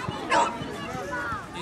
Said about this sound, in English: Were those our dogs barking?